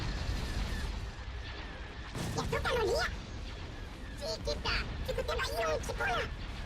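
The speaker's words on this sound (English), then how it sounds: "Direct fire at their laser cannons." Laser cannon fire crackles through a Star Wars space battle video game, repeated blasts and bursts mixed with game effects while voices talk over the action.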